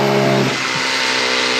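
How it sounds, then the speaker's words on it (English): Leaf blower running in a dairy barn pen where rubber cow mats are being installed, a loud continuous close roar with a brief tonal whine at the start. "she's out here with a leaf blower"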